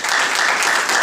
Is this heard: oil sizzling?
no